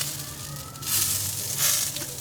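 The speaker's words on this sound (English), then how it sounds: "Sizzle, sizzle." Southwest-seasoned pork loins sizzle on a grill, a soft, steady crackling hiss with a couple of brief louder flare-ups, fairly quiet and close.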